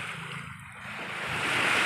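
Wind off the sea and surf rolling onto a beach on a dry day, a steady broad rush that swells slightly louder toward the end, with no voices.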